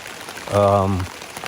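Rain patters steadily on a backpacking tent along the Colorado Trail, a soft, constant hiss of drops, with a brief voiced hum or groan near the middle.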